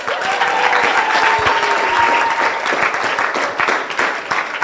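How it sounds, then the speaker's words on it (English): Loud, sustained audience applause at a poetry and performance symposium, steady clapping from a crowd that holds for several seconds before easing slightly at the end. "And clap really loud, Miss Tania Hernandez."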